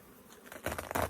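Honey bees at an opened hive give a brief rising buzz with soft patter from handling the hive, close and moderately loud, with no talking.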